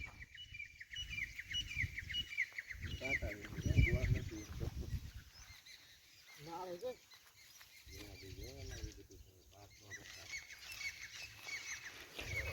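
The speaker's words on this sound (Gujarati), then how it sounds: "પક્ષીઓના કલરવ દેખાય તમને બહુ" Birds chirping in a calm outdoor spot near a Meldi Maa shrine, faint scattered calls against soft background murmur and occasional voice-like sounds.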